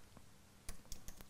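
Soft, close computer keyboard typing while code is written, starting with faint taps and then a few distinct keystrokes in an irregular rhythm, quiet with no talk.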